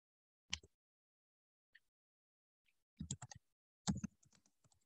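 Sparse, close clicks of typing on a computer keyboard, a lone tap, then two quick bursts of several keystrokes with quiet gaps between, no talk over them.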